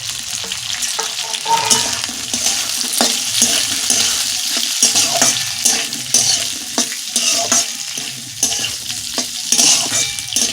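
Chopped onion, capsicum and carrot stir-frying in a pan for a broccoli chicken stir fry: a continuous close sizzle with frequent clattering spatula strokes, no voices.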